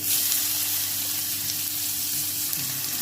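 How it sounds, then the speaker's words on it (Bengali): Chopped onion frying in hot oil with cumin seeds, dried chilli and bay leaf, a close, steady, loud sizzle with a low hum underneath and no talking. "পেঁয়াজ কুচিটাকে আমি লাল লাল করে একটু ভেজে নেবো"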